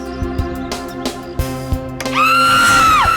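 A woman lets out a long, loud, high scream in a dramatic scene. It rises suddenly after a series of percussive background-music hits and holds strong before tapering off.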